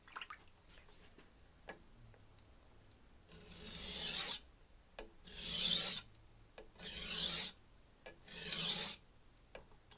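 A knife is sharpened on an aggressive diamond plate with four rasping strokes, each about a second long and evenly spaced. The strokes are close and clear, with quiet pauses and faint clicks between them.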